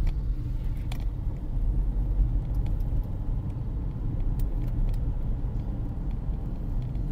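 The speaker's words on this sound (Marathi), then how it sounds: "बघा ट्रॅफिक." Stalled traffic jam on the Mumbai–Goa highway at Mangaon, with a steady low rumble of idling car and bus engines close by and no break in the drone.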